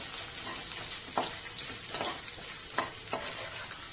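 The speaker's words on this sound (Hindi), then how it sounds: "एक से दो मिनट के लिए इसी तरह से हमें आलू को इसमें फ्राई करके ले लेना है" Potatoes fry in oil in a pan with a soft, steady sizzle, broken every second or so by quiet scraping stirs.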